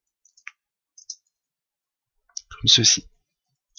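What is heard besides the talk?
computer mouse clicking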